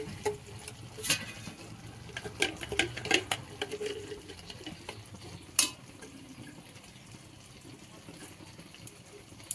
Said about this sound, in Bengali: আর এবারে একটু ঘি দেবে, দিয়ে নাড়িয়ে নামিয়ে নেবে